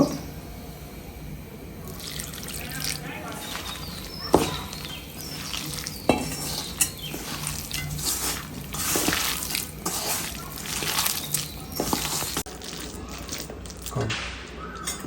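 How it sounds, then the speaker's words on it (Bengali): Water is added little by little to carrot pakora batter while it is stirred and squished by hand, producing wet slapping and mixing sounds with irregular sharper knocks. "একটু একটু করে পানি দেব"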